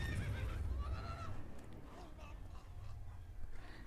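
Horse in The Witcher 3 video game whinnying in a wavering, rising and falling neigh, fairly clear at first, then fading under low rumble and faint background game noise.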